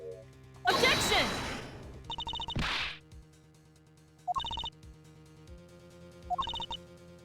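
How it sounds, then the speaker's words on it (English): A telephone rings inside the Ace Attorney Investigations: Miles Edgeworth video game, with short repeated electronic ring bursts spaced a couple of seconds apart, mixed with a loud whoosh and thwack effects from the game. "We need to find the phone."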